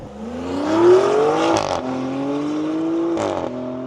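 A Maserati Grecale Trofeo SUV accelerates hard, its engine note climbing steadily through the gears with a loud, close roar and brief shift breaks, no one speaking.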